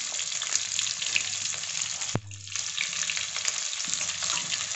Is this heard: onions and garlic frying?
yes